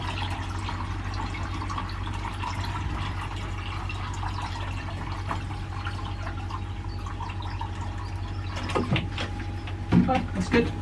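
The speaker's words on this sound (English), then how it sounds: "fill the water tray up." Water pours into a seed tray to soak compost from below, a steady low trickle and splash running throughout with a few louder splashes near the end, close by.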